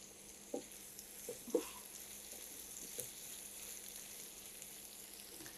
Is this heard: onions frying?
yes